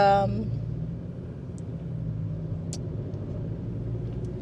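A car drives toward Dulles airport, heard from inside as a steady low engine and road rumble that holds evenly throughout.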